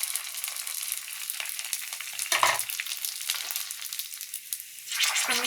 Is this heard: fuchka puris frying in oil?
yes